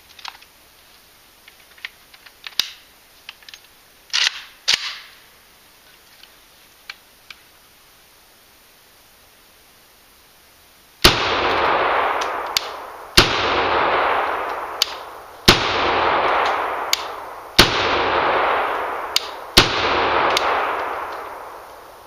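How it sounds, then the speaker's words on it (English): A standard short-barreled AK rifle fires five loud, sharp shots spaced about two seconds apart, each with a ringing decay. A few faint clicks and handling noises come first, and no one speaks. "Let's shoot a few rounds with the standard short-barreled rifle first"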